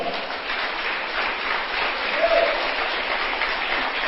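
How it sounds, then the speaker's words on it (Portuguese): A church congregation applauding during a sermon, a steady wash of clapping at moderate volume that holds evenly throughout, with no clear talk over it. "Você pode aplaudir ao Senhor?"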